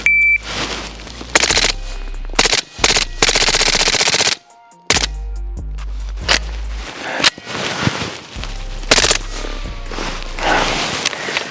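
A Scorpion gun with an FRT trigger and Nexus Evo Gen 2 dumping a 29-round mag in loud, rapid bursts of gunfire, several long strings broken by short pauses, near and alone.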